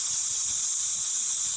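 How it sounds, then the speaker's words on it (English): An iPhone sleep-sound track of sizzling rain: a steady, bright hiss, constant and close with no breaks. "Or you can get sizzling rain"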